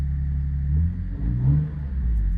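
A Lexus GS300 with a new exhaust rumbles deeply at close range, revving up twice in quick succession over a steady idle, with no talking.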